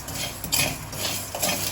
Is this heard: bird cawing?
no